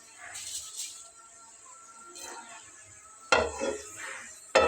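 Nigella seeds dropped into hot oil for tempering, giving soft crackling sizzle bursts with a louder sharp burst near the end, alongside faint clinks of a utensil against the pan.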